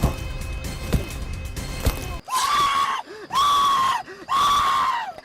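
A man in a horror fan film screams three times in quick succession, loud, long, close, wailing cries with brief pauses between them, following a stretch of noisy scuffling.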